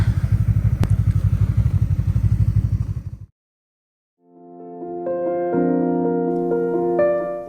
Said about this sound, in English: at the moment I'm bringing bikes up on the skidoo